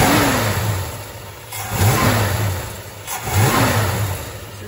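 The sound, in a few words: 1968 Dodge Charger 383 big block engine running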